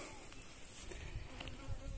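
A bee swarm hums around a wooden hive box outdoors, a steady, dense buzzing close to the microphone with individual bees flitting past, no voices.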